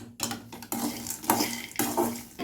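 Ingredients for drumstick-leaf laddu being lightly dry-roasted in a pan, close scraping and stirring strokes of a spatula against metal coming in irregular bursts with brief pauses between.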